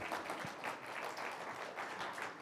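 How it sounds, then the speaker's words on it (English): An audience applauding: dense, continuous clapping from many hands, fairly soft and distant, holding steady throughout. "Clap for Hunter too, please."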